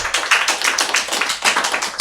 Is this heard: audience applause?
yes